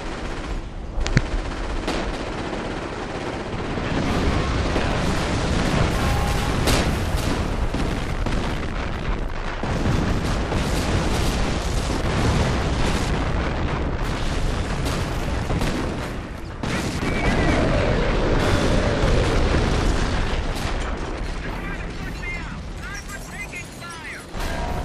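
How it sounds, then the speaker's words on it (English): Dense battlefield din in the video game Company of Heroes during an artillery barrage, continuous heavy blasts and rattling gunfire layered loudly throughout, with game voices speaking over the combat. "Coordinates received, sir. Artillery barrage commencing."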